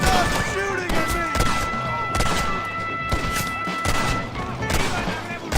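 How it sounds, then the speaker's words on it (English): Gunfire in Red Dead Redemption on PS5: a dense, loud fusillade of rapid shots and booms over continuous game noise, with voices shouting amid the shooting. "Stop shooting at me!"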